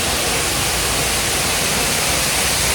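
A large water fountain at Mumbai airport splashes in a dense, loud, unbroken rush that fills the whole moment.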